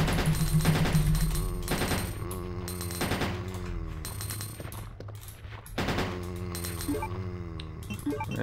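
Rapid gunfire from Resident Evil 2 (1998) on PC, loud repeated shots fired in quick succession with ringing metallic tails, continuing through the whole stretch with only a short lull midway.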